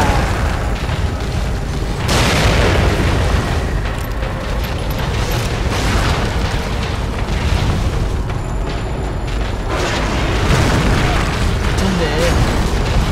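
A bomb explodes in The Evil Within horror action game, a deep booming blast near the start followed later by another heavy rumbling burst, over a continuous dense layer of game noise.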